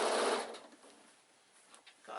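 Sewing machine stitching an insulated picnic bag: a short burst of whirring stitching at the start, fading into a quiet hum with light clicks, then another brief burst at the end.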